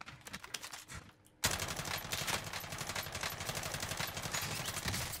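Rapid MP5 fire mixed with enemy gunfire in a video game, with a brief lull before a sudden burst of dense, continuous automatic shots that stays loud and close to the end.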